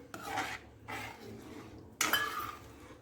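A spoon stirring saffron threads through hot sugar syrup in a metal pan, several soft scraping strokes and then a brighter scrape with a light clink, quiet and close.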